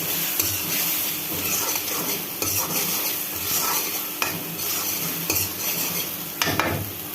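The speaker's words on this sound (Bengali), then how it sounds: "বেশ সুন্দরভাবে এটা কষানো হয়ে যাচ্ছে।" Ground spices including black pepper fry in a pan with a steady close sizzle, while a utensil stirs and scrapes against the metal in repeated irregular strokes.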